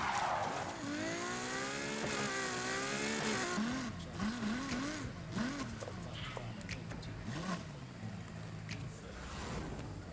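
A race car engine in Need for Speed Heat, played on a ROG Ally handheld, revs and climbs through gears with rising, sweeping pitch and brief tire squeal, loud and close throughout.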